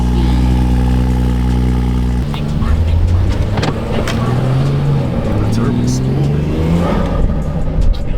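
A BMW E36 fitted with a B58 engine accelerates hard: a steady engine drone suddenly gives way to rising revs and upshift sweeps, loud and close, with people exclaiming over it.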